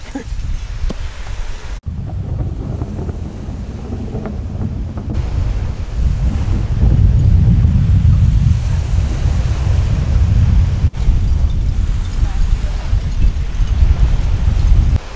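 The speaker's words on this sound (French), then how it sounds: "Là, c'est la tempête." A storm arriving at the sea brings a constant roar of wind and surf, with heavy microphone buffeting that grows stronger partway through. No one speaks.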